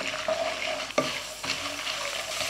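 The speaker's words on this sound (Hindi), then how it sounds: "फ्लेम आपने ना हाई फ्लेम पे इसको अच्छे से आपने ना फ्राई करना है" Gond (edible gum) frying in a pan on high flame, giving a continuous close sizzle with a sharp scrape of stirring partway through.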